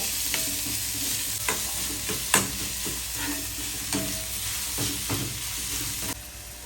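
Cabbage and spring onion being stir-fried in a pan, a continuous sizzle under irregular scraping and clanking strokes of a spatula, several sharp knocks standing out, close and fairly loud.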